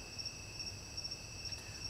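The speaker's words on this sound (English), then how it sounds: "You can probably hear the crickets chirping" Crickets chirping at night, a steady high continuous trilling with faint pulsing, moderately loud over soft low background noise and no voices.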